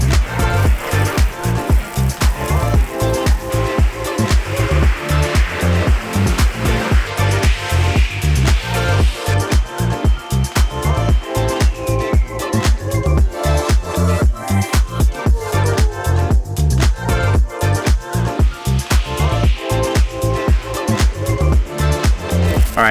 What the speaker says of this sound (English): I'm gonna do a deionized water rinse on the car